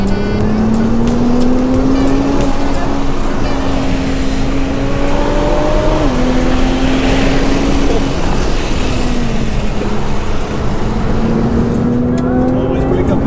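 An R35 Nissan GT-R accelerates hard from a launch-control start, its engine droning loud and steady from inside the car, with the pitch climbing through several gear changes.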